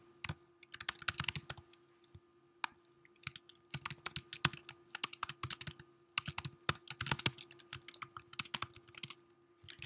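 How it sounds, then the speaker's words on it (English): Fingers type on a computer keyboard in a lecture setting, producing rapid bursts of close, crisp key clicks with short pauses between runs over a low steady hum. "I have to get typing."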